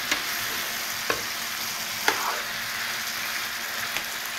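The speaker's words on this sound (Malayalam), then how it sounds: "ഇനി ഇത് നന്നായിട്ട് ഇളക്കി" Camel meat fries in a pan under constant stirring, a steady close sizzle punctuated by evenly spaced taps of the spoon against the pan about once a second.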